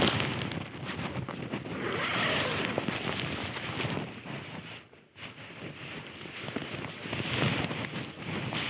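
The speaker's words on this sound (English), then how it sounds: "In fact, the wind's blowing off some of the rain." Gusty wind buffets a trekking pole tent in the rain, a loud, steady rushing roar with a brief lull midway before it swells again, close to the microphone and with no voices.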